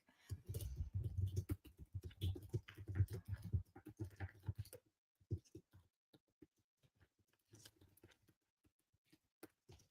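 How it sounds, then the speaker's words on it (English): Quick bursts of typing on a computer keyboard, close and quiet, with dense rapid keystrokes at first, then sparse scattered clicks after a pause. "I'm just going to type that out really quick."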